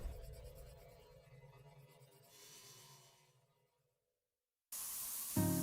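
Spray paint hissing from a can in the video game Spray Paint Simulator, a steady airy spray that fades out into silence, then a louder, harsher burst of spraying returns near the end.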